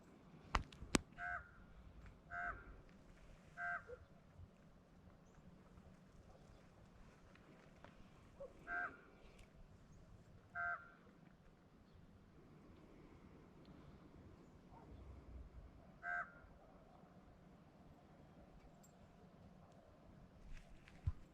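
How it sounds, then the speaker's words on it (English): A raven calls in short, unusually high-pitched croaks at dawn, about eight separate calls spaced irregularly over the span and sounding moderately distant, above a quiet low background hum. "That is a raven. That is not a natural raven call."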